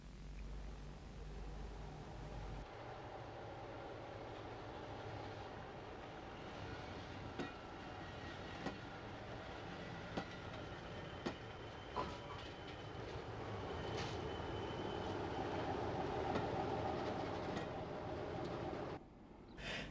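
A diesel locomotive runs round its train at Birr station in 1960s Ireland, a steady low engine rumble with faint clanks and rail noise, alone and at moderate distance, swelling slightly toward the end.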